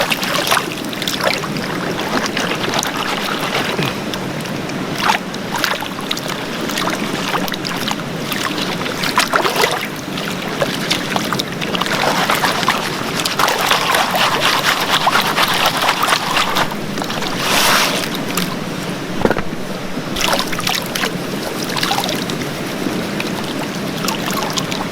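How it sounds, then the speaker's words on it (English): Gold panning in water, with continuous sloshing and swirling of dirt and gravel in a pan, steady and close throughout, interrupted by occasional splashes and clinks. "going to do is pan this down till there's only a little bit of material left"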